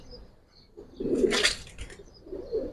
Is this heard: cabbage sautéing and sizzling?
no